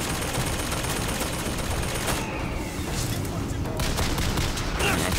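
Sustained gunfire from an enemy in BioShock Infinite crackles in a dense, noisy rattle that runs almost continuously, with a brief lull midway before bursting back in.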